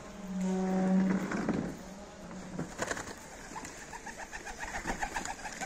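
A flock of Adana pigeons coos near the loft, with a strong, close burst of deep cooing early on and then softer repeated calls and rustling that fade into a lighter, pulsing chorus.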